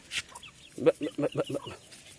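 A lively chicken clucks in a quick run of five or six close, clear clucks, preceded by a brief higher squawk, with a quiet background.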